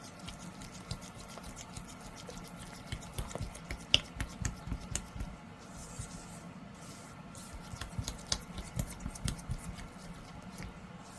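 Magic Pour resin mixed with water in a bowl gives a steady, quiet scraping and soft patter from close by, with irregular light clicks throughout.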